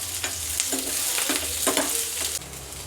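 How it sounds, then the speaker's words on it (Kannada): Onions frying in a pan for a veg biryani, with a steady close sizzle and several distinct spoon-scraping stirs repeating roughly every half second, the frying quieting slightly near the end. "ಆನಿಯನ್, ಈರುಳ್ಳಿ ಸ್ವಲ್ಪ ಫ್ರೈ ಮಾಡ್ಕೋಬೇಕು ಚೆನ್ನಾಗೆ"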